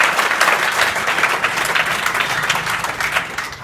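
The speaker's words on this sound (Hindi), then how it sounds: "ताली बजाओ के लिए।" Children in a school classroom at Purva Madhyamik Vidyalaya in Kolisa, Azamgarh, clap together in loud, brisk applause, a dense rapid patter that carries on for several seconds before tapering slightly.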